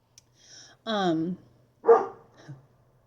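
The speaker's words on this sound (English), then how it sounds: "Sorry about the barking." A dog barks a few times nearby in short bursts, with a whining, drawn-out yelp among them.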